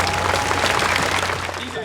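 Audience applause for Tainan mayor Huang Wei-che and his team: a short, dense burst of clapping, loud and sustained, with voices mixed in.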